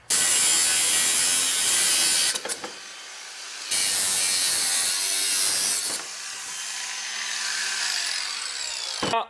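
A saw rasps through a metal chassis part on a 49cc performance quad in loud back-and-forth bursts, pausing briefly twice before the cut continues more quietly.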